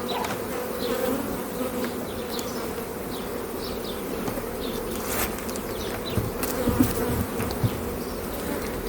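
Honey bees crowded on a cramped, squeezed-down brood nest in a hive give off a dense, steady buzzing hum that holds close and even throughout, with no talking.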